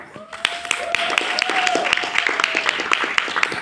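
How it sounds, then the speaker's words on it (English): Audience clapping for themselves at an organized community event, a dense patter of many hands held steadily for a few seconds, with a faint voice or tone running beneath. "Can you clap for yourself?"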